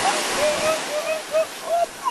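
Ocean waves break on a beach in Senegal as a loud, continuous rush of surf and spray, with faint whistling tones riding over the wash.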